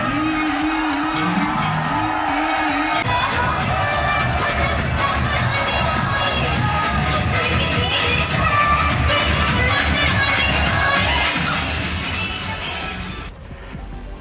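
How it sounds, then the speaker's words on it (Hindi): Thousands of people packed into city streets celebrating a festival, a loud, continuous roar of crowd noise with shouting and cheering throughout, fading slightly near the end. "हजारों की संख्या में सड़कों पर जुटे लोगों ने मनाया त्योहार।"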